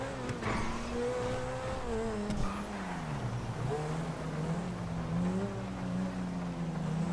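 An Audi drives during a chase, its engine droning steadily with the pitch rising and falling as it accelerates and eases off. The engine stays fairly close and clear, with no talk over it.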